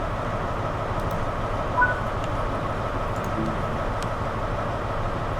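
An HST diesel train stands idling at a station platform in a train simulator on a Riviera line, a steady low engine rumble with a continuous drone and no voices.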